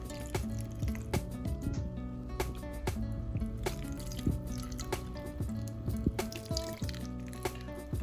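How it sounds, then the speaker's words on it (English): Broth pours and splashes steadily over crab legs with soft drips and wet squishing, close and continuous, with clicks and clatter from handling an Instant Pot. "You're going to put your broth on the crab."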